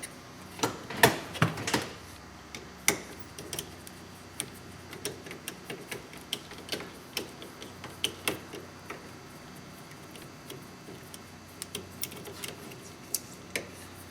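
Torx bit backing out a bolt under the dash of a 2003 Polaris Ranger 6x6 utility vehicle, giving close, irregular mechanical ticks and ratcheting clicks in quick bursts, loudest at the start, with no talking.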